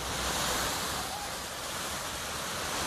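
Floodwater gushing up into the air beside Hammersmith Bridge in London after huge downpours, a dense, constant roaring wash of water spray that fills the whole stretch without letting up.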